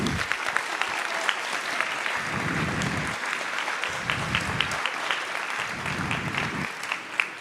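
A concert audience at a high school marching band event applauds Mr. Richard of the lights and sound crew, sustained clapping that stays even throughout with a few sharper individual claps poking through.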